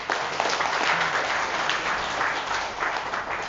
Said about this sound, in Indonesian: Tepuk tangan loh nih.